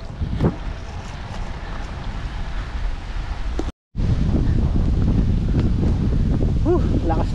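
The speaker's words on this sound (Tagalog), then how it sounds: "lakas ng hangin." Strong wind roars and buffets a microphone steadily during a bicycle ride, with a brief dropout midway; faint voices may be buried in the rumble.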